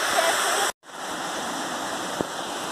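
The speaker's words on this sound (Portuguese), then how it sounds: "Estamos aqui na cachoeira." A waterfall on the Furnas trail up Mestre Álvaro in Serra, Espírito Santo, roars as a loud, steady, close wash of water, briefly cut off for a moment, with no talk.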